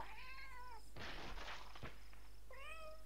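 Two cat meows from a video game, each a clear, wavering, fairly loud cry, with a burst of noisy game sound between them.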